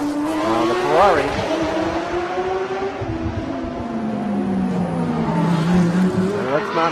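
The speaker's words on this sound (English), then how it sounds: "currently PT is driving the 34 Monster" A Ferrari GT3 race car, the number 34 entry, howls around a track in a GT3 race. The engine note climbs and falls through gear changes, loud and steady, with commentary talking over it throughout.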